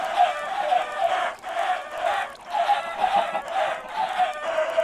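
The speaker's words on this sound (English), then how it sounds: "There's a lot of chickens." A flock of chickens clucks in a Minecraft modpack, dense overlapping bursts of squawking and clucking in pulsing waves, close and loud, with no talk.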